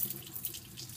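Water running from a bathroom tap into a sink, a close, steady hiss and splash lasting about a second with no talking.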